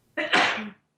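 A single sharp human sneeze bursts out close by in a quiet room, a quick breathy intake followed by a loud explosive release that fades within half a second.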